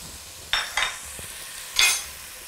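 Garlic hits a pan of softened onion for a potato and curry stew, producing short bursts of sizzling spatter and stirring scrapes, three distinct hisses over a quiet background, close and moderately loud.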